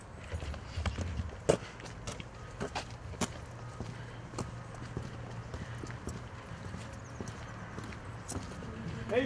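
Horses walk on wet winter ground at a farm, their hooves giving irregular clip-clop knocks, some sharp and close, over a quiet low rumble.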